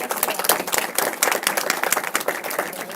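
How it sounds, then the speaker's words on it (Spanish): Audience at a community talk at Casa Pueblo applauds, a dense run of sharp claps lasting about three seconds at steady moderate loudness, no voices over it. "Un aplauso para compa Jimmy."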